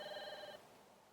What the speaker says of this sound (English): That's the phone in your office.